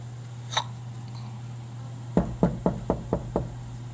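Knocking on a school office door: six quick, firm raps in an even rhythm, close and clear over a low steady hum, with no one talking.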